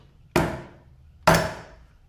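Two sharp knocks of a metal motorcycle shock absorber part struck on wood, about a second apart, each ringing briefly before fading, close by with no talking.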